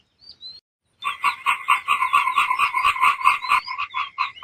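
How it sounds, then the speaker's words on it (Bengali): Frogs croak in a cartoon, a rapid repeating chorus that is fairly close and steady, with a couple of faint chirps before it begins. "আমার আশেপাশে ব্যাঙের ডাক শোনা যাচ্ছে।"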